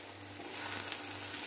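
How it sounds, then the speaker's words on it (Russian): Zucchini slices frying in oil in two pans make a steady, close sizzling hiss that grows slightly louder partway through, with no talking. "вот такие вот у меня тут кабачки жареные. Немножко поджариваются."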